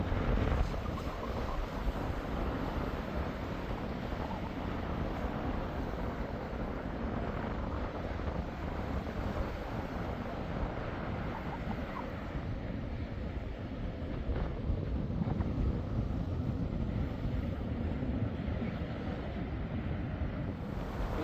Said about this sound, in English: The wind is probably going to keep it like this the whole day.